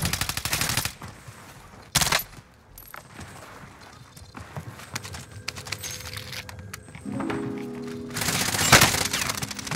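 Gunfire rattles in Call of Duty Warzone, with bursts of rapid automatic shots at the start, near the middle and loudest at the end, separated by quieter stretches of clicks and game noise.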